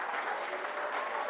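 An audience at a business meeting applauding, a dense, continuous round of clapping at steady strength for the whole short stretch.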